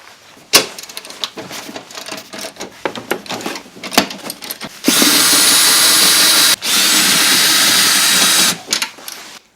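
Power tool removing seat bolts in a Sprinter van: scattered clunks and handling knocks, then two sustained loud whirring runs split by a short break, close by, no talking.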